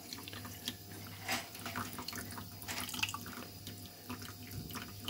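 Water trickling slowly from a K8 hydrogen water machine into a glass, a faint, steady thin stream with small splashes and drips, heard alone without talk.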